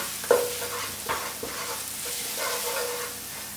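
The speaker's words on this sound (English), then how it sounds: "In with our spices, work them round, bloom them in the oil." Spices frying in oil for an aubergine curry give a steady close sizzle, with a few utensil scrapes as they are stirred around the pan.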